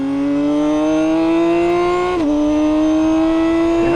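A BMW K 1600 GTL six-cylinder touring motorcycle pulls hard with its quickshifter, engine tone climbing steadily, dipping sharply at a quick gear change, then rising again, loud and close with no talk.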